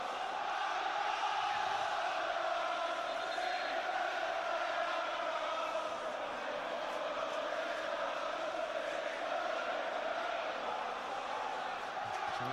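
Football crowd at a Fulham v Chelsea Premier League match, a steady, loud roar of cheering and chanting held throughout without a break, with no distinct voices standing out.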